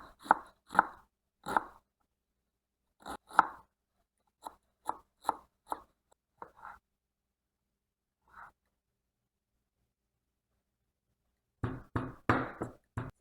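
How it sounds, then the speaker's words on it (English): Onions are chopped with a knife on a board in distinct sharp thuds, a quick run of strikes, then irregular single cuts with long pauses, and a dense burst of rapid chopping at the end. "Now we have to chop our onions."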